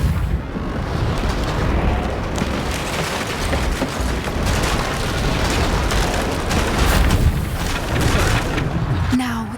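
Reparo repair spell cast in Hogwarts Legacy, a sustained rumbling, crackling magical rush with bursts of debris-like noise, loud and continuous, ending in a brief shimmering tone.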